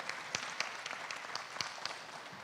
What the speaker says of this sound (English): let's give a round of applause to Mr. Dennis Roussel and to the whole crew at Belle Chase High School